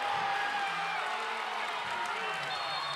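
A basketball crowd roars during a regional final high school game right after a made corner three, a dense sustained wash of cheering that fills the full three seconds with no break.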